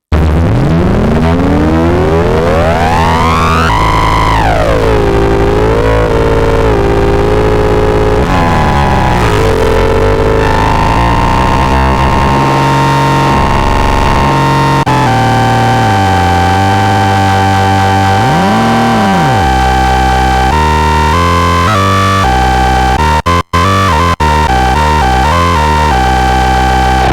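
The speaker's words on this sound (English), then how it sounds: "just no other synth I own can make a sound like that" A PWM Malevolent synthesizer with detuned oscillators produces a loud, harsh, continuous noisy drone with sweeping, warbling pitch bends and shifting tones, ending in a brief sharp burst.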